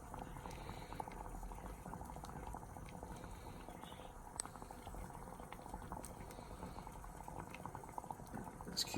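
Heated wax bubbles steadily while a Telecaster neck pickup is potted, making a soft, continuous fizzing and popping with occasional sharper pops, faint and close.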